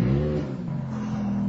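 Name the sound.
Ferrari F430 4.3 V8 engine revving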